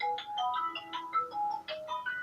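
A mobile phone ringtone plays a bright electronic melody of quick stepped tones, steady and fairly loud, with no voices over it.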